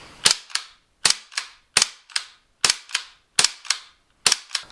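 A Marushin M1 Garand gas airsoft rifle fires seven sharp, loud, close shots at a roughly even pace, each crack followed by a brief metallic echo.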